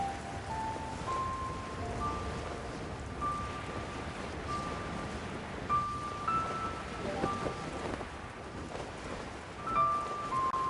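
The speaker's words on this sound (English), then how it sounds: "It's raining." Rain in Genshin Impact falls as a steady, soft hiss of drops with faint rustling throughout, broken by thin tones. No one talks.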